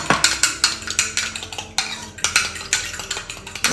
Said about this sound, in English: We're mixing an egg.